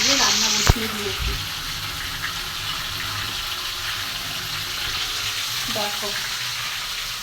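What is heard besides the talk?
vegetarian yam curry cooking in a pan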